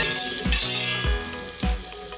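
Loud steady sizzling of sucuk sausage frying in a pot over low heat, with a few low thuds of stirring, close and continuous.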